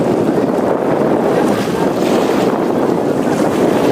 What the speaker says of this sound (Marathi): लाटा बघा कसल्या येत आहेत.